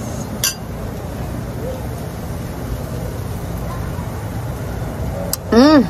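Wine glasses clink together in a toast at a casual family barbecue gathering, two brief bright chimes about five seconds apart over steady background noise, with a voice rising near the end.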